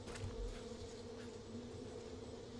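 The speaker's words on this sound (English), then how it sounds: "Sounds like there's some bees around or something" Bees buzz in the Far Cry 5 video game, a steady, continuous drone at moderate volume with no other sound over it.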